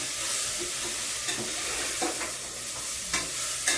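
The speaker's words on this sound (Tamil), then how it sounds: "ஒரு முருங்காய் ஒரு பீட்ரூட்டு ஒரு பெரிய கேரட்டு கொத்தமல்லி தலை ஒரு கை நல்லா பொடி பொடியாக கட் பண்ணி வச்சுட்டேன் எல்லாத்தையும் நல்லா வதக்கிக்கலாம்" Finely chopped drumstick, beetroot, a large carrot and coriander stems sauté in a hot pan, giving a steady loud sizzle with occasional sharp scrapes and clinks as they are stirred.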